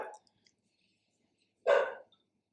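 A single dog bark rings out clearly on its own, followed by a brief faint sound at the very start, with no talk.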